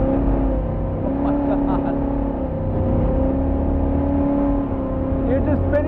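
A 600hp Diamond T Ultra4 truck with a 1940s shell pulls away from a standstill with its tires spinning, a loud, sustained engine drone and roar close by, with a person exclaiming over it.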